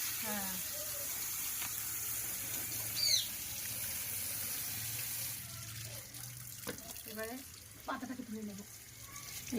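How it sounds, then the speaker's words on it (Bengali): Malabar spinach stalks are rinsed under a running tap in a home kitchen, a steady hiss of flowing water with brief splashes and clinks as the stems are handled. "ডাটা ধুয়ে নিচ্ছ মা"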